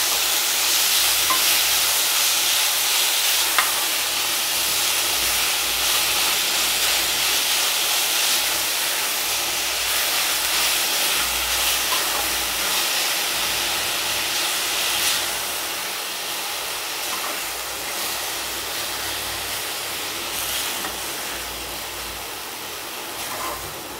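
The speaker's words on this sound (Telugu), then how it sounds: "ఈ ఆకునైతే ఒకసారి ఆయిల్లో బాగా ఫ్రై చేసుకున్నాము." Boiled moringa leaves frying in oil give off a loud, continuous close-up sizzle and steamy hiss that holds steady throughout, easing slightly toward the end, with no speech.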